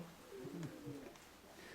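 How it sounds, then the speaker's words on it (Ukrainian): Soft pigeon coos from an upper floor on a snowy day, a couple of low warbling calls close by, followed by a faint rustle and a brief sharp noise at the end. "Покажу людям, що там за голуби."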